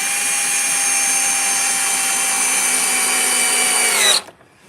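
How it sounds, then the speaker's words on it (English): A power drill bores pilot holes in wood about an inch thick, giving a loud, steady high whine that holds for about four seconds and then cuts off abruptly as it spins down. "You just drill these pilot holes to make sure that the wood doesn't split."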